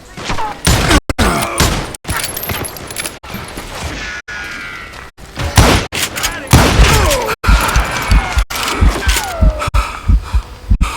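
Gunfire in the Call of Juarez Gunslinger Western shooter: loud, close shots crack repeatedly in a rapid, uneven volley, some quick pairs and clusters, amid clattering effects and occasional voices shouting underneath.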